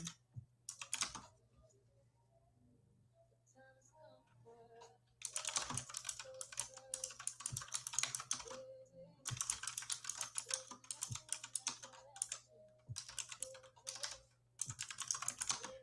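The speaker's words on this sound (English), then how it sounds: "this keyboard, y'all hear it?" Close, clacky typing on a computer keyboard comes in rapid bursts of keystrokes, broken by short pauses, with a faint steady hum underneath.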